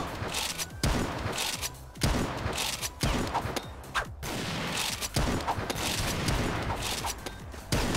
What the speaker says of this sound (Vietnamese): Con M200 Potter này nó bắn khá là nhanh.